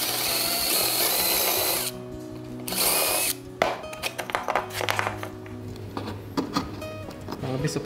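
Power drill boring into scrap wood while making a jacket hanger, a steady loud whine for about two seconds, a short second burst, then lighter intermittent drilling and handling noise.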